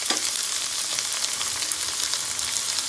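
Spring onions and green chilies frying in a pan for a Bengali lau shak bhaji, a dense, close, continuous hiss and crackle of hot oil with no voices.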